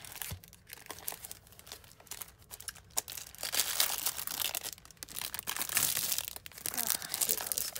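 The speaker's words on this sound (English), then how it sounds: "Crinkling." Plastic packaging from a diamond painting kit crinkles and rustles as it is pulled away, in irregular bursts of crackling close by, with some quieter pauses between them.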